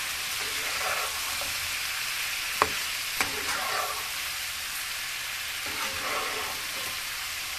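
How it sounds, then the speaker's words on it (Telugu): Chicken pieces coated in masala spices being stirred while they fry, a continuous hissing sizzle with occasional faint spoon clicks against the pan, close but fairly quiet, no voices. "ఈ వేసిన మసాలాలన్నిటినీ కలిసే విధంగా, ముక్కలకు కలిసే విధంగా కలుపుకోవాలి."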